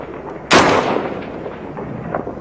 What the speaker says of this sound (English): That's return fire coming back at us. Yeah, they're shooting back.